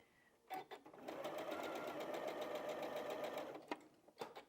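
Sewing machine stitching scrap fabric pieces for a Dresden snowflake quilt block, a steady close whirring run of about three seconds bracketed by short clicks and handling noises, quiet overall.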